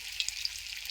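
Food fries in a small amount of oil in a pan, giving a soft, steady sizzle with a few brief crackles and no talking.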